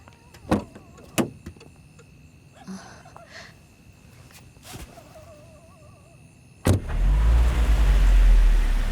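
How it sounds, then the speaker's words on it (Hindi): A car at a gate late at night, being moved away. A couple of sharp thuds like a door are followed by the engine starting, which settles into a loud, close, steady rumble. "आप गाड़ी हटा दीजिए ताकि मैं ताला लगा सकूं।"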